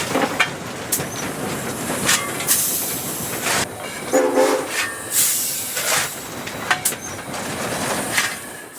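Double-headed steam locomotives, a 2-8-0 and a 2-8-2, hauling a freight train, with loud hissing steam bursts, rumbling cars and a short horn-like whistle note, close and busy throughout.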